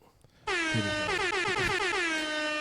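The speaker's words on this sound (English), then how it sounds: "Drop an air horn." After a brief quiet moment, a blaring air horn sounds and holds steadily for about two seconds, loud and piercing.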